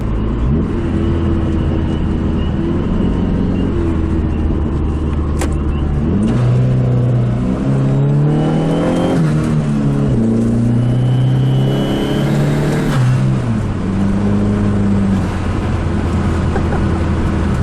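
A car engine drones continuously nearby, its pitch climbing and dropping through several revs as the vehicle accelerates and shifts.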